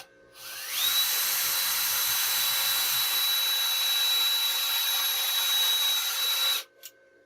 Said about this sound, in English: I'll go ahead and drill some holes on this piece of metal